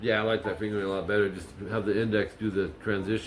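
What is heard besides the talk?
None of the usual background noises is heard.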